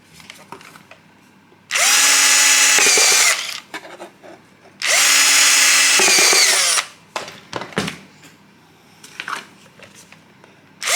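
A power drill bores holes in wood in two sustained, loud bursts of about two seconds each, with quieter handling clatter and small knocks between and after.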